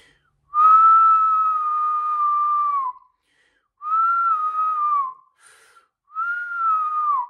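Three loud, steady notes whistled without fingers, each held for a second or two with brief pauses between, clear and close with no other sound.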